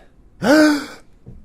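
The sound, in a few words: voice imitating a shocked gasp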